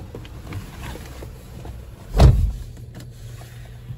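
Electric window motor on a used car with electric wing mirrors, a short close whirring burst in the middle over a quiet interior hum, no talk.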